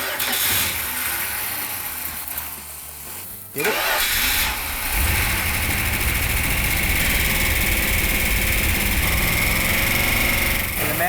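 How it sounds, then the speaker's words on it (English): A 340 Mopar V8 fitted with tri-power carburetors cranks and catches partway through, then settles into a loud, rumbling idle close by. A person speaks briefly over the engine. "Okay, so the engine sounded really good."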